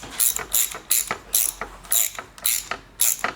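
Drop wire clamp for six-pair telephone drop wire being tightened with an improvised tool, a rapid series of about eight sharp ratcheting clicks in a steady rhythm, close and clear with no talking.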